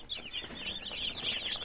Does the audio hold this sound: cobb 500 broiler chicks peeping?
yes